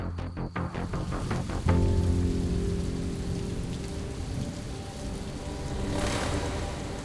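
Steady rain falls in a dramatic TV serial scene, a dense, even hiss of drops that runs throughout after a few tonal musical notes at the start.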